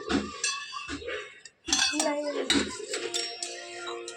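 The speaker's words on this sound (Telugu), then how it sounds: "చింతపండు మంచిగా కలుపు." Tamarind is mixed by hand with water in a metal vessel, with clinks and scraping against the pot. Voices talk over much of it.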